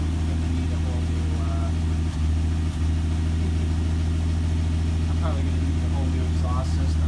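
A 1971 Dodge Demon found in a garage idles steadily with a low, even engine drone and no sputtering, with brief voices and light handling noises over the top.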